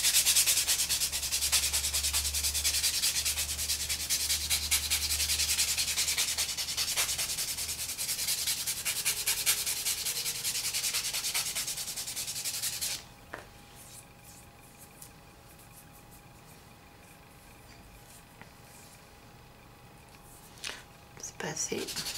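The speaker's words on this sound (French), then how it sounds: "Donc on ponce pour, ouais, pour que ce soit bien lisse" A nail file buffs a nail surface smooth with steady, close, rasping strokes for about thirteen seconds, then stops, leaving faint room tone and a few soft taps.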